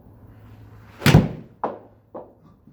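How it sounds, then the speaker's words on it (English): A golf club strikes the ball with one sharp, close crack on the course, followed by two fainter knocking impacts, with no talk. "go ahead and hit the shot, and we'll see how that goes"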